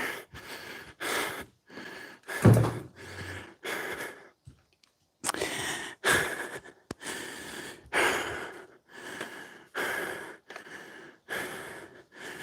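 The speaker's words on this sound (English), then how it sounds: "heavy breathing." Heavy, rhythmic breathing close to the mic, loud rasping inhales and exhales repeating steadily with a short pause midway.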